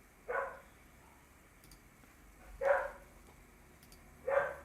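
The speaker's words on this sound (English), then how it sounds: "My dog is barking." A dog barks three times, evenly spaced a couple of seconds apart, fairly close, with quiet room tone between the barks.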